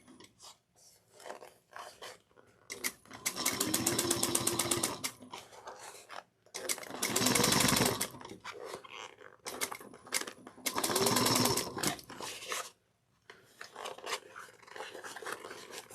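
A sewing machine back stitches a bag in three loud bursts of rapid stitching separated by pauses, with quieter fabric handling and occasional talk in between.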